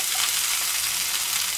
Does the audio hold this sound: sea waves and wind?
no